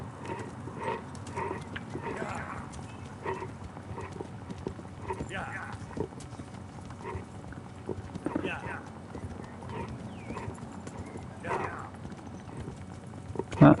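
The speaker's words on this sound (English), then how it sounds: "Isn't that your horse?" In the video game Kingdom Come: Deliverance, a horse's hooves clip-clop in a steady walking rhythm beneath a conversation between characters, moderate in level throughout.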